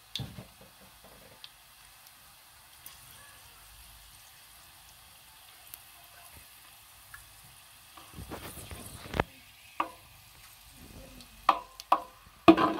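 Dry whole spices frying in ghee for chicken pulao give off a faint, steady sizzle, with a few sharp clinks and scrapes of stirring toward the end.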